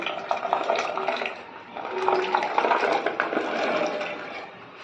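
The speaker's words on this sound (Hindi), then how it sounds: "1 किलो जो लसोड़ा लिया है उसको हम पानी में डाल देंगे" Lasoda berries are tipped into a pot of water with salt and turmeric, giving a continuous splashing, gurgling wash of water that swells and eases for several seconds.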